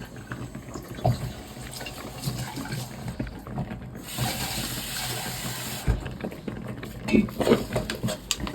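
Water is poured into a pot of okra soup, a steady running splash with gurgling and some clatter, continuous and fairly close.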